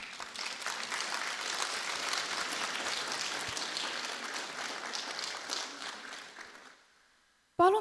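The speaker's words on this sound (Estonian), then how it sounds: "Tervitame sooja aplausiga neid, kes on aidanud meie lõpetajatel avastada teadmiste maailma." Warm applause for school staff at a graduation ceremony in a school hall, a broad, even sound of many people clapping that holds steady, then fades to silence before a brief sound at the end.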